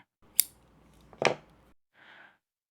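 Scissors snip through acrylic yarn while measuring a tail for a granny square, giving two short crisp cuts in a quiet room, followed by a faint rustle.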